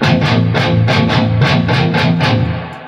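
Electric guitar through a Gehenna distortion pedal, played as a steady run of evenly spaced chugging chords, loud and thick, with the last one ringing out and fading.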